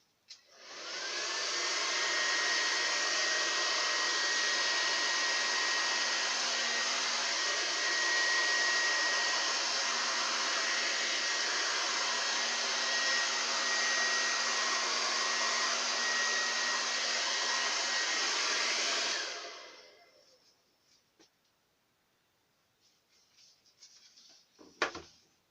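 A hair dryer blows air over wet paint during a Dutch pour acrylic painting, a steady loud whooshing hum running about nineteen seconds before switching off, followed by faint handling noises.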